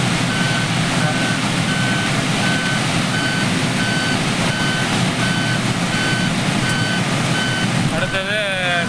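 A car overtaking on a highway in heavy rain between Singaperumal Koil and Padalam, with a steady loud wash of rain and road spray, traffic rumble, and repeated short electronic beeps throughout.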